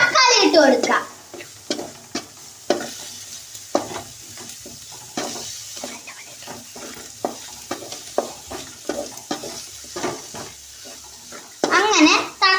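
Chopped tomatoes and onions fry in a pan under repeated stirring, with rhythmic spoon scrapes and clicks over a continuous close sizzle.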